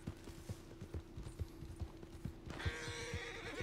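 Horse hooves pound in a steady galloping clip-clop in Red Dead Redemption, with a whinny rising near the end over the continuing hoofbeats.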